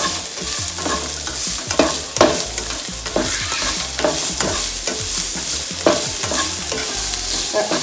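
Onions, green chili, ginger and garlic sauté in a pan for chicken kurma, with a busy sizzle under repeated scraping stirs of a spoon, close and fairly loud.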